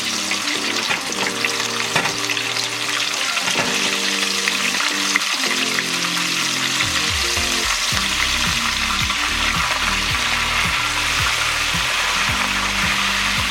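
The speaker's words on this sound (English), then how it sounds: "We're gonna give our crab a light fry." Crab pieces going into a deep fryer for a light fry, a loud continuous bubbling sizzle of hot oil with busy crackling throughout and no voices.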